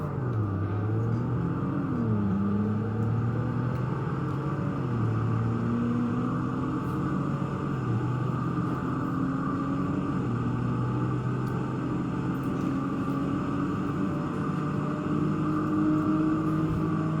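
Engines of two offroad SUVs, a Toyota 4Runner and Sequoia, in Roblox Greenville drone steadily and rise in pitch as they accelerate, a continuous loud rumble with no voices.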